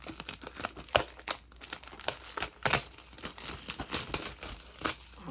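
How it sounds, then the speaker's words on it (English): Plastic shrink wrap is torn and crinkled off a Blu-ray complete-series box set, with irregular close crackles and sharp tearing bursts running throughout and no talk. "let me go ahead and actually take it out of the shrink wrap here"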